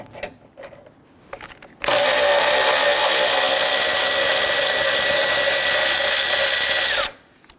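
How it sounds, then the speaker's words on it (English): A power tool on a 2011-2021 Jeep Grand Cherokee's AC line bracket, removing a 10mm bolt: after a few small clicks and knocks, a loud, close, continuous high whir runs steadily for about five seconds, then cuts off. "Remove this 10mm bolt here holding the bracket for the AC line."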